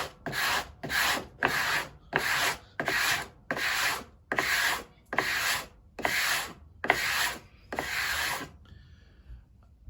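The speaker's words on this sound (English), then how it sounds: "what I would like to do would be use a bit of sandpaper here" Sandpaper rubbed by hand along the sharp edge of a wooden cigar box, ten steady, loud, close back-and-forth rasping strokes in an even rhythm, then a short quiet tail, with no talk.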